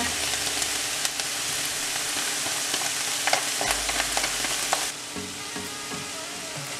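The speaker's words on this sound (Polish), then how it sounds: "do potrawy dodaję kukurydzę. I w dalszym ciągu podsmażam." Mushrooms and vegetables, with garlic and corn, sizzling steadily in a pan as rice with vegetables is prepared, with scattered stirring clicks and scrapes over a continuous close frying hiss.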